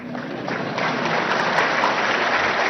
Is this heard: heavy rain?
no